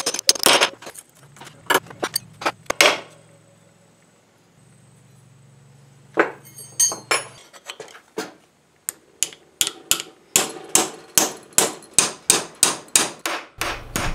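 A hammer strikes a metal flange on a Roman gladius scabbard collar, worked cold. Sharp, close metallic blows come in irregular clusters, then a quiet pause, then a steady run of evenly spaced taps.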